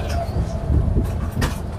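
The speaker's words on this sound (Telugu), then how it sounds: "ఇప్పుడే నాగపూర్ రైల్వే స్టేషన్ వచ్చిందండి." A train at Nagpur railway station in India, heard as a loud, close low rumble and mechanical hum with faint clanks, the station din continuing steadily throughout.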